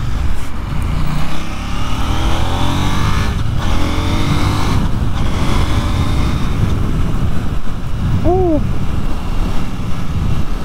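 A 2022 KTM 890 Duke GP motorcycle accelerates hard, its engine note climbing through several rising sweeps over steady road and wind roar, with gear changes breaking the pull; loud and close throughout.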